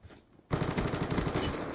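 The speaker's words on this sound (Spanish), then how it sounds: "Cuidado que me están disparando por todos lados." Rapid automatic gunfire in Call of Duty Black Ops 2 erupts after a brief quiet moment, a dense, loud, continuous burst of shots that carries on to the end without any talking.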